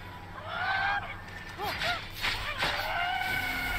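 Small roosters squawking and honking in the video game Immortals Fenyx Rising, a few short rising-and-falling calls in quick succession over steady game background noise, moderately loud.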